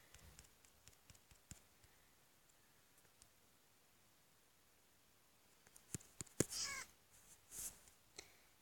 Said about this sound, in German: Und schon habt ihr eine Katze,